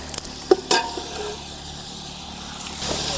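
Chopped onions fry in rendered mutton fat for a village-style goat biryani. A loud, steady sizzle runs throughout, with a few sharp stirring clatters near the start.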